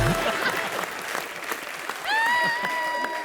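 A studio audience on a comedy show bursts into brief applause, a dense burst of clapping with a tonal music sting rising over it partway through.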